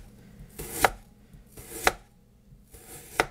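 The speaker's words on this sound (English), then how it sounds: "And then I just take it and cut it into strips." Knife chopping through frozen chicken into strips on a board, three sharp, separate cuts about a second apart, close and clear with no talking.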